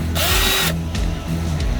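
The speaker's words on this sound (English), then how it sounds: "The kit comes with a polishing pad, goes on the drill" Power drill fitted with a polishing pad buffing a car headlight, a steady loud whir running nearly throughout with brief dips in speed.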